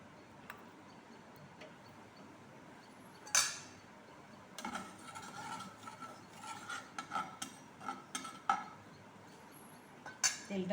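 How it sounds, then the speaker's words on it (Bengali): Mustard oil is poured into a wok on a gas stove, amid faint kitchen clinks and taps of a metal utensil against the pan, sparse at first then more frequent, quiet and close. "সর্ষের তেল দিয়ে দিচ্ছি।"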